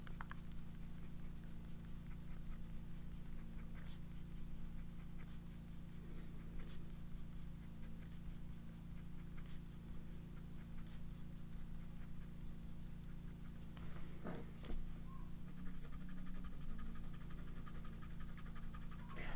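A fountain pen with a medium nib writes on paper, faint scratchy strokes barely rising above a constant low hum of background noise, with a few louder ticks near the end.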